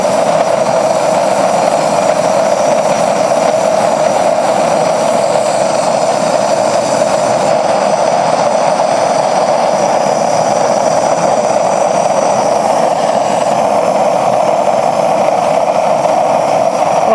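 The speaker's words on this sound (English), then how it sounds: "now that the propane torch is running in the furnace" A propane torch burner roars steadily inside a small coffee-can foundry furnace, a loud, continuous broadband rush with no pauses across the whole stretch and no voices.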